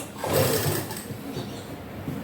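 A sewing machine stitching salwar pleats, a short close mechanical whir that swells briefly and then runs on more softly.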